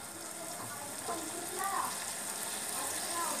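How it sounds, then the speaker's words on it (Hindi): Soya chaap masala fries in oil in a pan, a steady broad sizzle with soft crackling pops, close and continuous throughout. "थोड़ी देर इसे पकाएंगे, फ्राई होने देंगे अच्छे से।"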